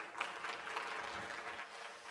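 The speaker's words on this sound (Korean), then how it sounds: "여러분 큰 박수 부탁드립니다." Brief burst of audience clapping after a startup pitching presentation at a mentoring event, a moderate, fairly close patter of hands that fades slightly toward the end.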